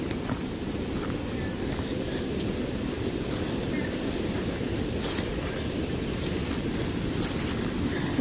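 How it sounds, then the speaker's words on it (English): Rushing water from a stream runs near old slate mill ruins in Bomoseen State Park, Vermont, a steady broadband roar that holds at even loudness throughout, with faint bits of outdoor noise on top. "You hear that rushing water?"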